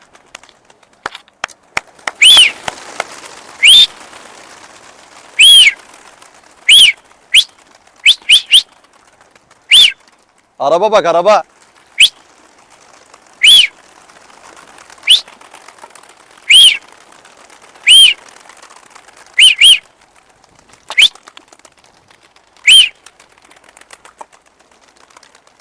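Domestic pigeons flown and lured by fanciers in Turkey, giving a series of sharp, bright bursts that recur every second or two, with a short voice breaking in midway over a soft background.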